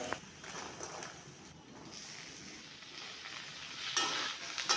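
Chopped onion, tomato and capsicum fry in a pan for chicken curry, making a quiet, soft sizzle with a few light stirring scrapes and taps nearby.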